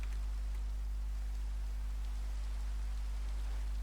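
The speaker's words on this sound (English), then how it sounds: "Daytime in the rain now instead of nighttime in the rain." Rain falls steadily in Minecraft, a soft continuous hiss under a low constant hum, with no voices.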